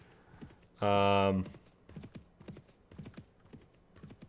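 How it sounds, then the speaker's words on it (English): Horse hooves in the video game Mount and Blade Warband keep a quiet galloping clip-clop rhythm throughout, interrupted early by a brief loud exclamation from a voice that drowns the hoofbeats for a moment. "7 people riding their horses."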